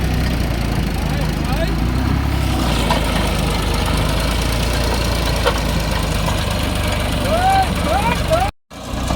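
An old Ford 3600 tractor's rough diesel engine chugs steadily and loudly while driving a rotavator through a 1000 rpm PTO, with a faint metallic clatter riding on top and a brief dropout near the end.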